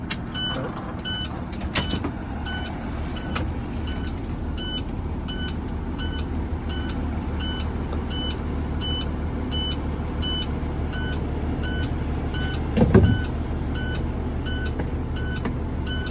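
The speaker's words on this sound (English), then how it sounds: "I am going to now turn on the bus in order to regain air pressure." A passenger bus engine runs to rebuild air pressure during a pre-trip inspection, a steady low idle rumble under a regular series of repeating high electronic warning beeps, with a brief louder burst near the end.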